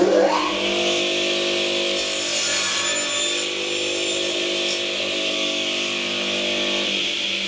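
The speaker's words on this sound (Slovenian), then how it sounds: "To je konzolna krožna žaga, grob material se nareže na manjše kose z nadmero." A cantilever circular saw in a woodworking shop cuts rough timber into smaller oversized pieces, its loud, steady whine holding for several seconds as the blade bites through the wood.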